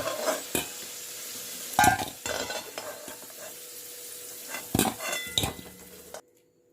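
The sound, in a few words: fried potatoes being lifted out of the pan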